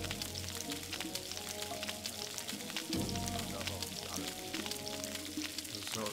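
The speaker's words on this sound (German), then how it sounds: "Alles, was wir haben, einmal brutzeln." Food frying in a pan in the Gothic video game, a continuous crackling sizzle with dense popping and spitting, steady and fairly loud throughout with no voices.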